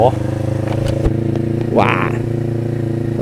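A Kawasaki Ninja 400 motorcycle runs at a steady engine drone during riding, with someone talking over it and a brief rise in pitch partway through.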